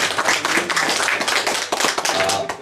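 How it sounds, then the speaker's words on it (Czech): A congregation at a church gathering in Poděbrady claps together in steady, dense applause that fills the whole moment, loud and close, with no talking over it. "Můžeme mu zatleskat taky."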